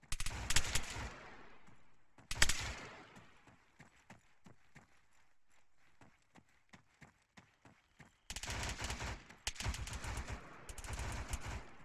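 PKM machine gun in Arma 3, loud sharp bursts of automatic fire at the start and in repeated long volleys at the end, with scattered fainter distant shots in between.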